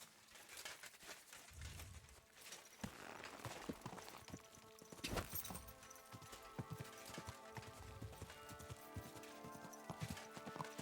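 Horse hooves clip-clop at a walking pace in the video game Kingdom Come: Deliverance II, with sparse clattering and some tonal background sounds, fairly quiet overall.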